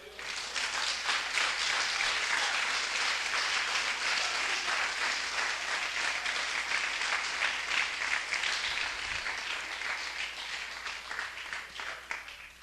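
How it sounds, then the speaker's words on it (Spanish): Applause for the Lord during a Spanish-language church service, with a dense congregation clapping steadily throughout at a loud, even level before easing slightly near the end. "Bríndele un aplauso al Señor"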